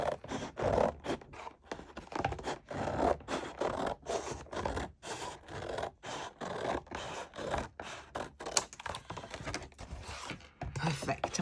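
Scissors cut paper for a collage junk journal cover in a quick run of crisp, scratchy snips and slides, close up, with short pauses between cuts.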